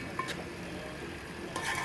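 A spoon stirring ivy gourd curry in a pan, a soft scraping swirl over a faint sizzle with a couple of light clinks of utensil against metal, close and unaccompanied by voices.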